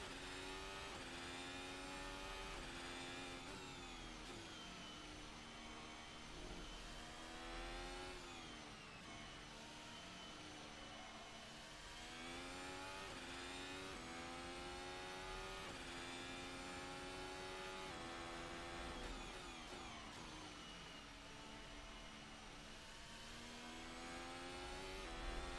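A 2021 Formula 1 race car screams around the Nordschleife in a VR racing game, its high-revving engine rising and falling steadily through repeated gear shifts for the whole stretch, with no one talking.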